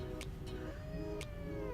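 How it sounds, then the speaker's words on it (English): A pet cat meows nearby in a drawn-out, wavering cry, loud and close, with faint sharp clicks scattered around it and no clear speech. "Oh, no, don't scratch me, kitty."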